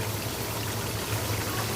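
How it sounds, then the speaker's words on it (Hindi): Water poured into a pot of browned chicken for biryani, a steady broadband pouring rush that runs continuously and fairly loud with no talk. "अब हम इसमें पानी शामिल करेंगे।"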